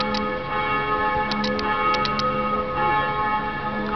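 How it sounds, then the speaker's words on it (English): Church bells in Salzburg ring out loud and resonant, with repeated bright strikes over a sustained humming wash of overlapping tones from more than one tower. "I guess it's competition between the churches and the bells. One stops, the other starts."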